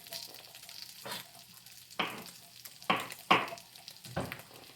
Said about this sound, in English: when you're sauteing and cooking up mushrooms like this